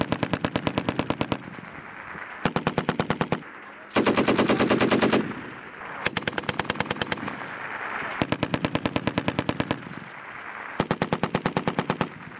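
An M240 machine gun fires in repeated long automatic bursts during an infantry drill, loud sharp rapid reports separated by short pauses, one burst longer and denser than the rest, no voices.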